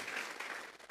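A church congregation claps together as an offering of applause, a steady, dense wash of hands lasting the whole short moment, fairly close and with no voices over it.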